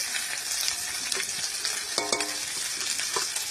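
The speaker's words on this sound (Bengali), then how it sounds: "এটাকে সুন্দর করে এদিকে সব সুন্দর করে নাড়তে হবে।" A paste of cumin, ginger and green chili fried in a pan and stirred, giving a steady bright sizzle with scraping and stirring sounds, close and continuous.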